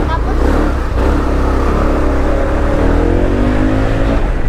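Engine of a 2023 Bristol Maxie 400 big-bike scooter revving loud and close, a sustained rising drone with climbing pitch that holds steady, with a voice speaking over it.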